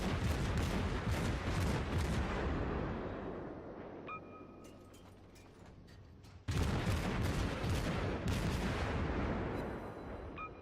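Naval cruiser guns on the Omaha thunder in World of Warships, heavy salvos of booming fire with rolling rumble and debris crackle, a brief lull with a faint alert tone, then another loud barrage.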